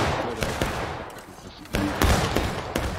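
Musket gunfire in the video game War of Rights during a 60-player battle, with repeated sharp shots cracking at uneven intervals amid a rumbling background, close and fairly loud.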